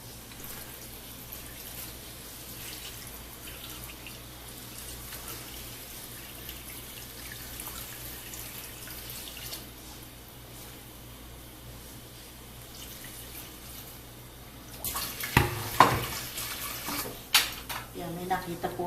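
Tap water runs steadily from a kitchen faucet in Tagaytay while bulalo beef soup is being prepared, a soft continuous hiss for most of the stretch before pots and dishes clatter loudly near the end. No one speaks.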